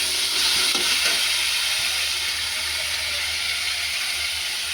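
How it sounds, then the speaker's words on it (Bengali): Spice paste of coriander, chili and turmeric powder with salt and tomato fries in a hot pan for vegetarian khichuri, making a steady hiss and sizzle with a few scraping stirs near the start. "মশলাটাকে ভালো করে কষতে হবে"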